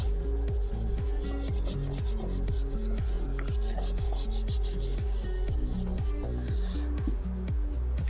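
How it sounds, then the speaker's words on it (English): A cloth dampened with liquid degreaser rubs steadily over the leather steering wheel of a Range Rover L322, giving a continuous close rasping wipe with a regular back-and-forth rhythm, and no one speaks. "Dampen a cloth with a liquid degreaser and wipe down the whole surface of the leather."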